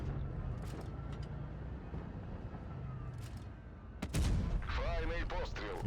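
A heavy tank cannon blast from the game World of Tanks Blitz (Object 752) booms sharply near the end over a low engine rumble, with a few fainter distant shots earlier and a voice following.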